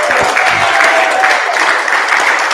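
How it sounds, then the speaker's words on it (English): An audience at an election candidates' event in the Manurewa electorate claps in loud, sustained applause, a dense crackle of many hands from start to finish with no talking. "Can we please give them a big round of applause?"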